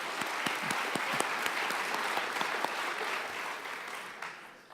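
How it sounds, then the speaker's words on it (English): Sustained applause from a high school senior awards ceremony audience, a dense wash of many hands clapping at moderate distance that holds steady before easing slightly near the end. "Let's give them a round of applause, please."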